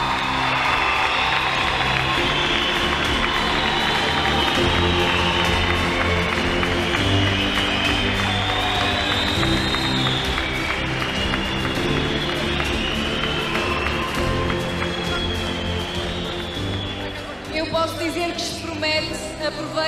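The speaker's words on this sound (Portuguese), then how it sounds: "Quero ouvi-los a aplaudir este país do desporto escolar." Students at a school cross-country championship opening ceremony cheer and clap as a large outdoor crowd, a loud sustained roar with whoops and applause throughout, easing slightly near the end.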